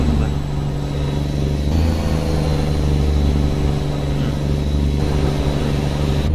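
A truck engine cruises steadily on cruise control in American Truck Simulator, a constant low drone with a faint whine that stays level throughout.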